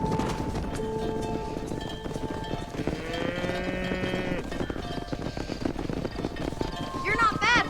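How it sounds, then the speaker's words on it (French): A herd of cattle in the Red Dead Redemption video game lows in long, drawn-out moos over steady hoof and ranch ambience, with someone talking over the scene. "on a amené les vaches"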